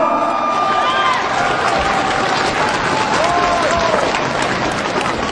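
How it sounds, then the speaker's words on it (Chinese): A large crowd applauds and cheers steadily at a professional boxing event after a Chinese boxer from Xinjiang wins in the sixth round, the clapping dense and sustained with a voice heard over it. "掌声献给他"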